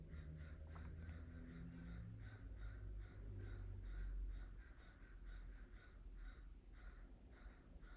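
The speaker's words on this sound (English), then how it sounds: "Crows are making some noise." Crows caw repeatedly outside a window in the distance, a long series of rhythmic harsh calls over a low background rumble, faint but clear.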